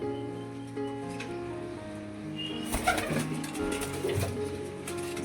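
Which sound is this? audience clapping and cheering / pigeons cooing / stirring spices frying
pigeons cooing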